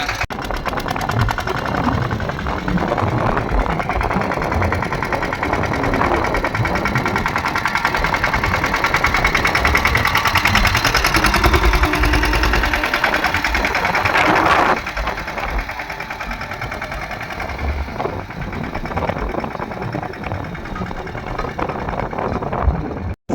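A tractor engine runs steadily and close by, a continuous mechanical drone with a rapid knocking rattle that holds at a fairly even level for over twenty seconds.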